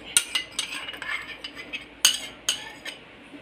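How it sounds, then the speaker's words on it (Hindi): A spoon stirs a ketchup-based marinade for chicken drumsticks in a bowl, giving a series of close, bright clinks and scrapes in an uneven rhythm, with two sharper knocks near the end. "तो इसको मैं अच्छी तरह से मिक्स करती हूँ"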